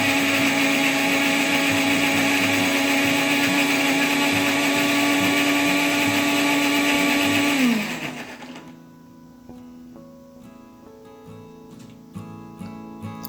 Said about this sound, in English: Then make sure you blend it really well until it's soft enough.